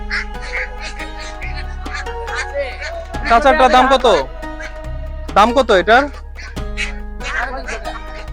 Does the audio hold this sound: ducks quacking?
yes